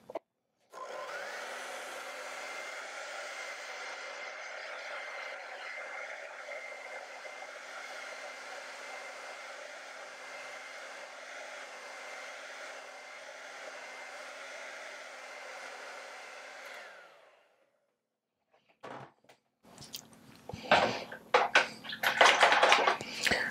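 A hair dryer blows steadily on an acrylic painting for about sixteen seconds, a loud continuous whoosh that then cuts off, followed by a few scattered clicks and rustling handling noises.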